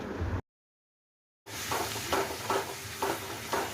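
Onions fry in a pan with turmeric, salt and Kashmiri red chili powder: a short burst of sizzle, a sudden second of silence, then sizzling resumes under a run of rhythmic stirring scrapes, close by.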